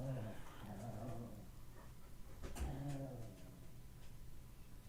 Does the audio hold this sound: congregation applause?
no